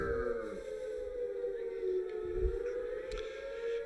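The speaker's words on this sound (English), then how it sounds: "Jake Esker with the air raid siren for his walk-up song" An air raid siren blares as a baseball walk-up song at a high school JV game, a loud, steady wailing tone filling the whole stretch with faint crowd noise beneath.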